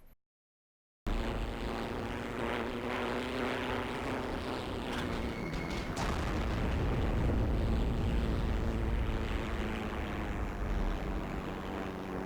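A propeller plane engine from the Heroes and Generals video game drones steadily and fairly loud after a second of silence, with a continuous unbroken roar through to the end.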